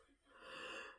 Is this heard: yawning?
yes